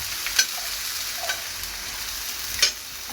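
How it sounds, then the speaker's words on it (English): Thinly chopped potatoes frying in a pan, a steady close hiss of sizzling oil with a few sharp stirring scrapes, no voices. "let's just fry some potatoes"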